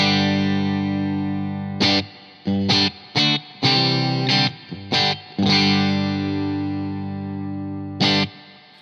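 Reverend Gill Parris Signature electric guitar on the bridge pickup through distortion and effects, loud sustained chords broken by several short choppy stabs, then ringing out with a final hit near the end.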